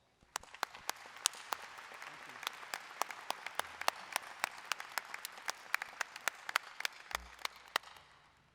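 A crowd at a spring commencement ceremony breaks into sustained applause, many hands clapping in a dense, steady patter that carries on for several seconds before tapering off.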